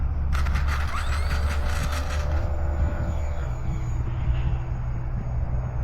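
An Eflite 1.3M Piper Cherokee RC airplane flies outdoors in a Wisconsin winter, its electric motor giving a steady whine and drone at moderate distance, with no voices.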